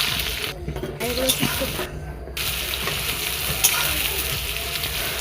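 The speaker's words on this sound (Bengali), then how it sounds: "কড়া গরম করে তাতে তেল দিয়ে আলুগুলো আমি ভেজে নিচ্ছি" Potatoes frying in hot oil in a wok, a loud continuous sizzle with scraping stirring strokes, briefly dropping out twice before resuming steadily.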